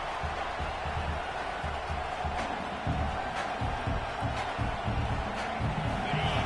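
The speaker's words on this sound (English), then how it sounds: "the crowd coming to life here, trying to help this defense down in the red zone" Football stadium crowd at a UNC versus UCLA college game in Los Angeles, rising as the defense holds in the red zone; a dense, steady roar of voices with scattered cheers and claps throughout.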